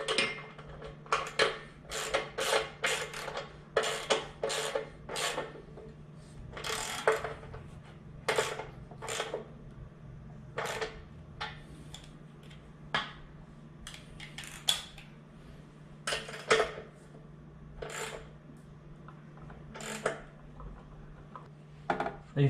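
A wrench works on the flywheel axle nuts of a Sunny Health & Fitness spin bike, giving many sharp metallic clicks and ratcheting taps in irregular bursts, close and fairly quiet over a low steady hum.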